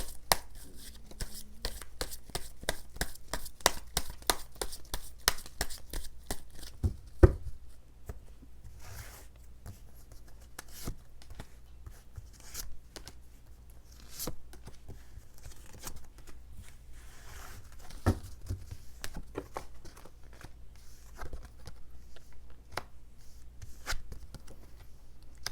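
Tarot cards are shuffled and drawn by hand in a close, quiet setting, with rapid riffling and snapping flicks at first, then scattered soft taps and slides of cards for the rest, with no talking.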